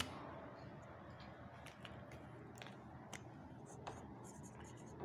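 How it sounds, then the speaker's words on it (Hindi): Someone writes on a board during a lecture, leaving faint, scattered scratchy strokes and taps at an irregular pace against a quiet room hiss. "यहाँ पे मैं लिख दे रही हूँ"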